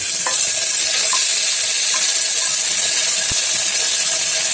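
Onion, green chili and a handful of mint sautéing in a pan, a steady close hiss of frying with faint stirring clicks and one sharp tap near the end, no voices.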